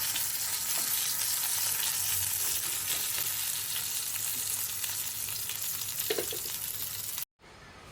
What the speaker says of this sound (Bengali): মাছটা কতটুকু ভাজা হয়েছে ঠিক একটু কড়কড়া টাইপের হয়েছে কিন্তু সুন্দর লালচে লালচে করে ভেজে নিয়েছে